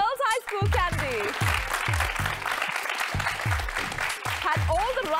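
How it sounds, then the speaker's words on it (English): An audience applauds the Girls High School, Kandy team at a school quiz show, with steady dense clapping close by while a presenter talks and booming music stingers punctuate it. "Can we have a huge round of applause for Girls High School Kandy?"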